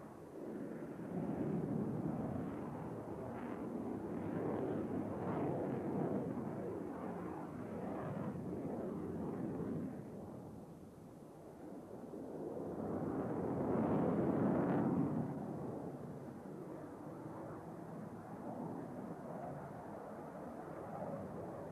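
A Dassault Rafale jet flies at the 1988 Farnborough International air show, its roar swelling, easing, then rising to a second broad peak before fading, heard from a distance with no talk.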